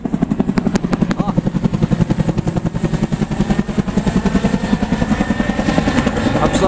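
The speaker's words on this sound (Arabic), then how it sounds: "أبصر مين هذا في الطيارة؟" A helicopter flies overhead, its rotor beating in a loud, fast, steady chop that persists throughout and grows slightly stronger toward the end.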